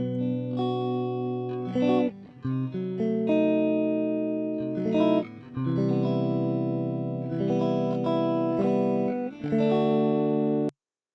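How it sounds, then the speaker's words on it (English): A dry processed instrument tone with reverb and ping delay switched off plays sustained, overtone-rich notes in a few phrases with brief gaps, loud and close, then cuts to silence. "if I take away the reverb and ping delay, it sounds like this"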